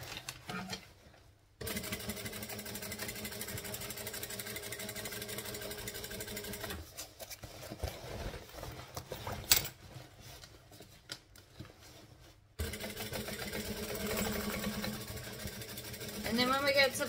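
A sewing machine stitches around the curved lining of a bag in long, steady whirring runs broken by short pauses, while a person talks over the work.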